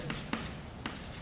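Pen or pencil writing out steps by hand on paper for a number systems maths exercise, short scratchy strokes with a couple of light taps, close and quiet.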